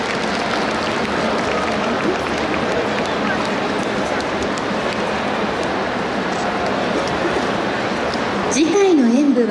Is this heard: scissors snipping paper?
no